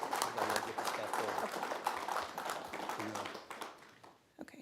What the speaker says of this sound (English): Let's go ahead and give everybody a round of applause for those years of service.